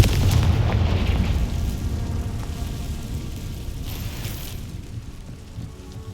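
A Confringo blasting spell goes off in Hogwarts Legacy on Xbox Series X, a heavy rumbling explosion that starts loud and close, then slowly fades into a long crackling, rain-like hiss.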